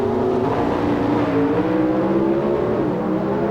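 Pro Stock drag racing cars run at the 1994 NHRA Southern Nationals in Atlanta, one with a Hemi engine, giving a loud, steady engine roar that holds throughout with a slowly shifting pitch.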